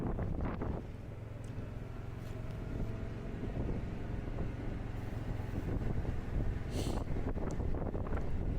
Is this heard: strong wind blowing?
yes